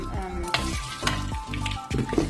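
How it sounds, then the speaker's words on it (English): Mussels sizzle in a hot pan for a seafood curry while a utensil stirs them, several scraping strokes over a steady close fry with no talking. "Just gonna give my mussels a quick check. A little stir."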